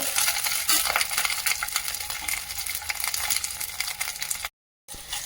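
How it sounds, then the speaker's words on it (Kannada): Ten green chillies fry in a pan while being stirred for a chicken curry, a steady broadband sizzle with scraping strokes throughout, cutting out briefly near the end before resuming. "ಹಸಿಮೆಣಸಿನ್ಕಾಯಿ ಇದನ್ನು ಸಹ ಹುರ್ಕೋಬೇಕು."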